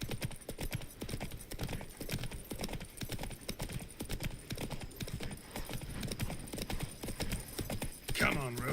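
The horse Roach's hooves clip-clopping in The Witcher 3: Wild Hunt, a steady rapid rhythmic trot, fairly close, running throughout with a brief call at the end.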